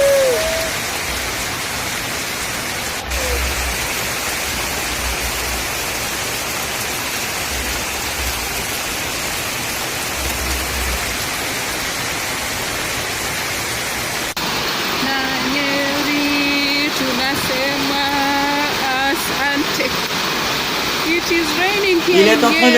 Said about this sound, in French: Il est en train de pleuvoir ici à Nyeri, comme c'est puissant